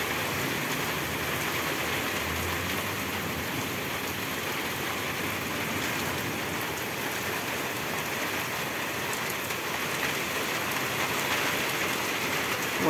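Heavy rain from a long thunderstorm with hail pours down in a steady, unbroken hiss and patter on surfaces, filling the whole stretch evenly with no voices.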